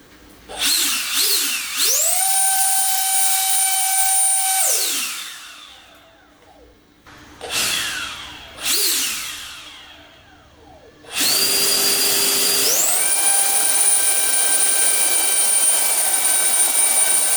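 A cordless blower running on a DIY 20V high-discharge battery whines loudly in several bursts, spinning up to a high steady tone, cutting off, pulsing briefly, then ramping up again and holding at full power.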